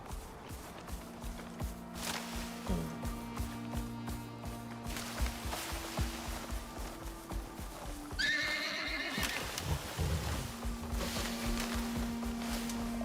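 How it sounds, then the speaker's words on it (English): In the survival video game Icarus, a horse whinnies loudly over trotting, clip-clopping hooves and a game soundscape. Shrill neighs stand out in the middle of the clip. "What do you do against a horse?"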